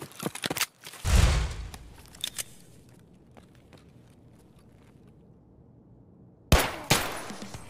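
Gunfire in Escape from Tarkov: sharp, loud shots crack out in a quick cluster early on, then a long quiet stretch before another close burst of shots near the end.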